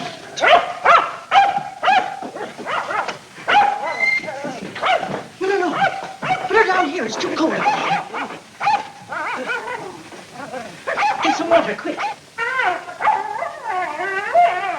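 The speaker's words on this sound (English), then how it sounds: "What's ailing that dog?" A dog howls and whimpers in a 1941 film scene, with loud, repeated bursts of yelps and wavering howls over urgent adult voices speaking throughout.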